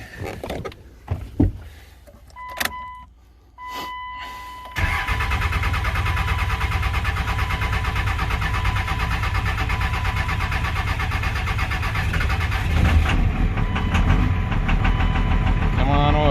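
A 1999 24-valve Cummins diesel cranks with a few sputtering turns, then fires and settles into a loud, steady, clattering idle that holds to the end, close to the microphone.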